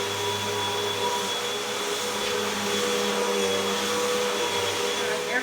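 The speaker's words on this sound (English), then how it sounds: "I'm getting ready to vacuum up." A household vacuum cleaner runs steadily close by, with a constant whining roar and a low hum that varies slightly as it is moved, with no voices.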